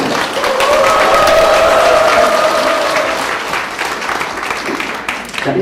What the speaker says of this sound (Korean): 자, 오늘 저녁에 박수를 주도록 하겠습니다.